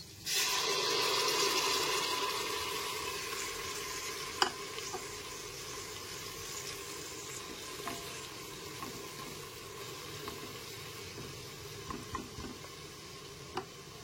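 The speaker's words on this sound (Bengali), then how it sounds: "পেঁয়াজ, আদা, রসুন, কাঁচা লঙ্কার পেস্টটা খুব ভালো মতো মিশিয়ে নেবার পর" Onion, ginger, garlic and green chili paste frying in a pan for a meat ghugni, with a steady broad sizzle and occasional soft scrapes and taps of a spoon stirring, close and continuous throughout.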